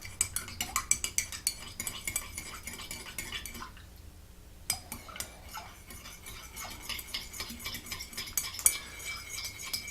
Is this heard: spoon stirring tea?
yes